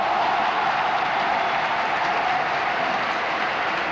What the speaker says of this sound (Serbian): Aplauzi